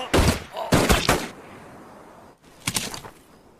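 Gunfire in a battle scene from a film about a special unit of condemned prisoners: rapid loud bursts of shots in clusters, then a quieter stretch and another volley.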